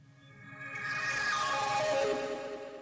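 A sample accent from a drum kit, pitched and reversed and run through a Thermal distortion preset, swells from quiet to loud over a few seconds. Its noisy, gritty tone sweeps in pitch and then cuts off, with no voices.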